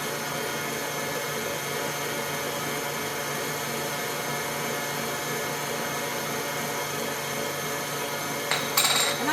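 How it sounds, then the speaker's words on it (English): An electric stand mixer beats lemon cupcake batter made with eggs and lemon zest, giving a loud, steady whirring drone with a brief rattle near the end and no talking. "I like to do this better on the mixer because it beats everything real well."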